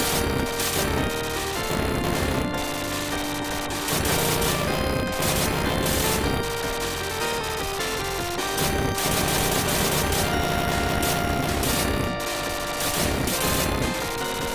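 Arcade video game Area 88 with rapid electronic gunfire as planes are shot down, continuous bursts of shots and explosions layered over loud game music, with no gaps throughout.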